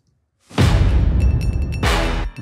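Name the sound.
transition sweep hit and boom sound effect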